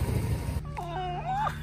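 A single drawn-out cat meow, wavering and whiny, close and fairly quiet over a low background hum, recorded in Honduras.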